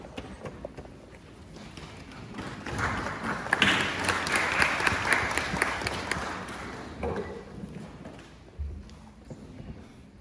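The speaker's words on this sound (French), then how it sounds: "J'appellerai ici, sous vos acclamations, Richard Mata." Applause from an audience at a memorial gathering honoring the deceased, swelling in the middle and then fading, with a few scattered claps trailing off.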